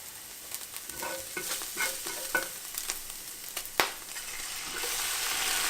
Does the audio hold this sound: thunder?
no